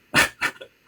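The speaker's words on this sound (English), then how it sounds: "If my dogs start barking, you can mute me" A dog gives two short, loud barks close by, followed by a softer yip and the start of another bark, with no talk over it.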